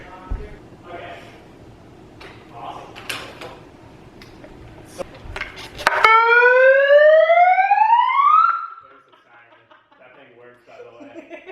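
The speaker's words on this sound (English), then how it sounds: "The Stoli siren we bought. The megaphone." A loud electronic siren wails from a megaphone, its pitch sweeping upward for a couple of seconds before cutting off, with people chatting and laughing beforehand.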